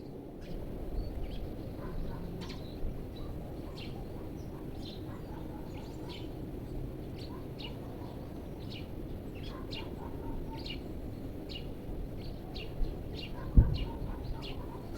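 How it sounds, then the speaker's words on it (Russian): Birds sing outdoors around an old house on a sunny day, with scattered chirps and short calls at a moderate distance over a steady low rumble of background noise and one sharp knock near the end. "Я сейчас микрофон выключил, чтобы вы послушали, как птицы красиво поют."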